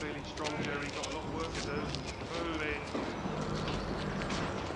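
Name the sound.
horses' hooves clip-clopping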